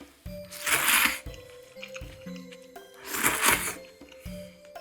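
Miso udon being mixed with chili, wet squishing and slurping stirs in two louder bursts, with soft clinks and drips between them, close up.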